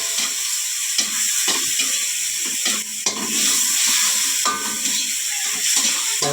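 Chopped onion caramelizing in a hot pan while cooking mung bean stew with pork bones, giving a steady close sizzle broken by repeated scraping stirs of a utensil against the pan.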